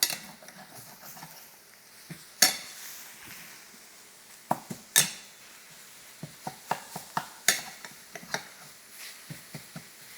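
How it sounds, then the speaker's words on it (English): Utensil scraping browned lean 90/10 ground beef off the bottom of a pan, with irregular sharp clacks and scrapes of metal on the pan, some louder and closer, over a faint sizzle. "So we browned up all that on the bottom. And then we just kind of scrape."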